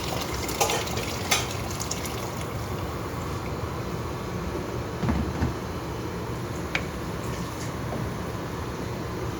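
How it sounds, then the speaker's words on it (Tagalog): Water boiling in a cooking pot in a home kitchen, a steady rolling bubbling hiss that holds throughout with a few faint clinks over it. "yung ating tubig kumulo na"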